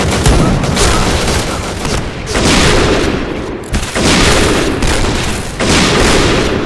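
Loud bursts of gunfire from a shooting video game: rapid volleys and booming shots in several dense clusters, close and heavy, with short gaps between them.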